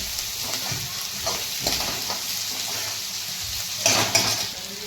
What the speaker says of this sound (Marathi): आता यामध्ये बारीक कापलेली शिमला मिरची टाकायची आहे, ती त्यात परतवून घ्यायची आहे व्यवस्थित